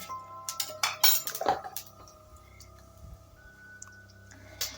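Metal spoon clinks and taps against a wok as mustard oil, cinnamon sticks and whole cumin go in while cooking malai motor, a few sharp close clinks early, then quieter scattered ticks over a low kitchen hum.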